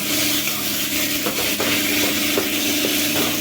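Vegetables salted with rock salt are stirred in a frying pan, giving a steady sizzling hiss with soft scraping and clinks throughout, close and continuous without any talk.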